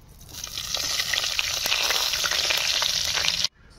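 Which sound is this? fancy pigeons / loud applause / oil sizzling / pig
oil sizzling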